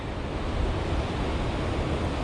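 Waves rolling onto a beach along the Bibbulmun Track between Walpole and Denmark, a continuous broad surf roar mixed with wind noise, fairly loud and with no voices.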